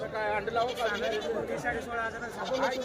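Several goats bleating in wavering, overlapping cries, close by at a goat market in Yenegur, Umarga, Maharashtra, with a busy crowd murmuring underneath.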